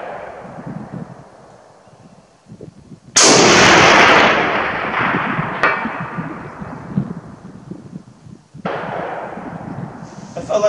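A single loud crack from a Finnish M39/43 sniper rifle fired outdoors at a range, with a sharp onset followed by a long rolling echo, then a metallic clack of the bolt and rustling handling noises afterward.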